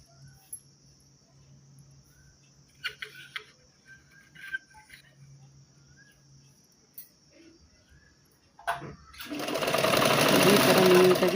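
A sewing machine stitches a saree fall in a quiet room, faint and intermittent at first with soft ticks and taps, then breaking into a loud, steady whirring run near the end.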